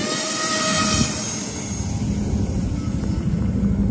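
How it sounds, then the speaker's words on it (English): A Wltoys XK A280 RC brushless P51 Mustang model plane takes off outdoors, its electric motor giving a loud, steady broadband whine and rush that holds level for the whole stretch. "So without further ado, let's take off."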